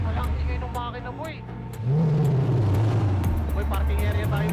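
A hypercar's engine in GTA 5 revs and rises in pitch, a loud close-up engine roar that surges after a quieter start.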